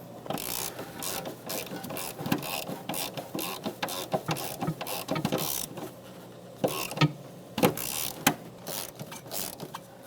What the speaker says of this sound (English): Get my 13mm socket and let's tighten them up.